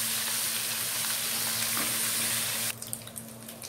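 Ginger garlic paste fries in hot oil for mutton karahi, a steady close sizzle that drops suddenly near the end to softer crackling pops, with no talking.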